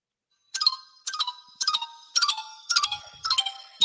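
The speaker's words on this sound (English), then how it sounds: "I had to find his ringtone, and it's really fucking annoying" Ringtone from the TV show Wallander: a bright electronic chime repeating in seven evenly spaced bursts, loud and clear against silence.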